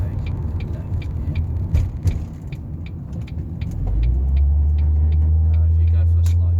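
Ford Focus MK1 with an automatic gearbox driving along, a steady low engine and road rumble that grows louder and more constant partway through, with some talk over it early on.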